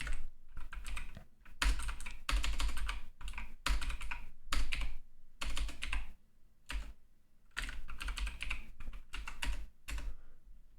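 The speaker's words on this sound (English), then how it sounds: "I'm furiously typing here" Rapid typing on a computer keyboard during an online game session: dense bursts of quick keystrokes in several flurries separated by short pauses, close and fairly loud, with no talking.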